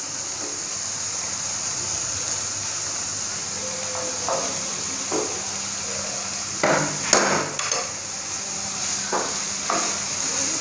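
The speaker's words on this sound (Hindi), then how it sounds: "अब मैं इसमें बाकी की जो वेज है वो भी डाल लेती हूँ।" Cabbage, onion and green chilies go into a hot pan for a chicken pasta platter, a steady sizzle running throughout with a few louder clattering stirs and scrapes of utensil against the pan toward the end.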